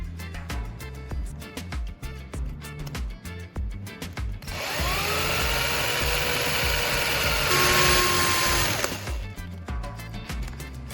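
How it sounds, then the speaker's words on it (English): A power drill whines up and runs steadily for several seconds, boring a hole to route an electrical wire, close and loud, with a higher pitch toward the end, after some clunking handling noise. "I need to drill a hole so I can connect the electrical wire."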